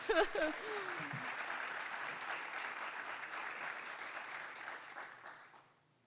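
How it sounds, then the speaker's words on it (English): Audience applause for a design team at a design collective presentation, a steady broad wash of clapping that follows a brief spoken phrase, holds evenly, then fades out near the end. "And they're all here with us today, which is deserving of a joyful round of applause."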